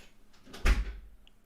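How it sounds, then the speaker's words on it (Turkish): An indoor door shuts with a single muffled thump, a short broadband knock with a low-end punch and a faint rattle trailing after, fairly near and alone without talk. "Kapıyı kapattı."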